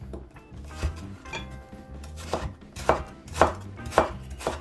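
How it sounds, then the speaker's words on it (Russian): Knife chopping eggplant on a cutting board, a series of sharp knocks that quicken and grow louder toward the end, with no talking. "я перережу баклажаны точно так же"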